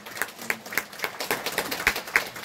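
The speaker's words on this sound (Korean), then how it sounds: "우리 아이들하고 그 부모님들 위해서 박수 한번 쳐볼까요?" Scattered clapping from a small congregation at a weekday Catholic Mass, uneven individual claps at a moderate pace, fairly close and not very loud.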